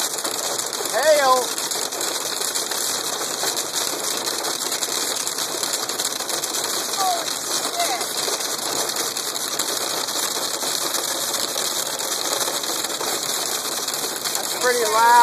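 Hail pelts a car driving along the Richmond Parkway, a dense, rapid, unbroken patter of hard ticks on the body and glass, loud and close, with brief voices in the cabin.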